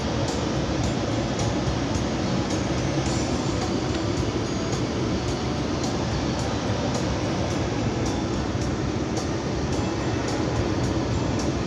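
The ventilation fan in a Citroen C8 car blows with a loud, steady, unbroken rushing roar that does not change for the whole stretch and has no talk over it.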